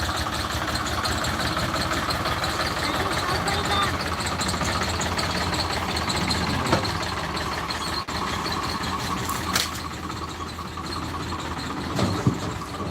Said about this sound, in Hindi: अभी ट्रैक्टर आ रहा है बोरिंग वाला